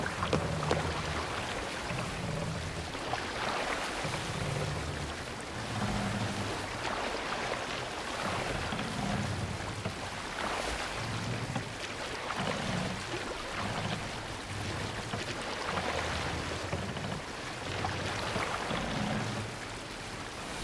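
A longship sailing on open water in the Assassin's Creed Valhalla video game, with a steady wash of water and wind and a low, rhythmic rolling pattern repeating throughout, heard alone without talk.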